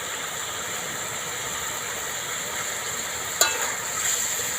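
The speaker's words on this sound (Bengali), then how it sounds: "ভালো করে মশলাটা কষিয়ে নিচ্ছি" Spice paste for a Bengali soyabean curry, loosened with a splash of water, sizzles steadily in a pan with a continuous close hiss, broken once by a brief clatter of the spoon near the end.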